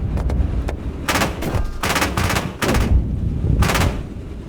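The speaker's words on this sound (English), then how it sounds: "We have a machine gun from the right side shooting them." Machine gun fire in the PC tank combat game Gunner Heat, with sharp bursts of rapid shots and loud reports over a constant battle rumble.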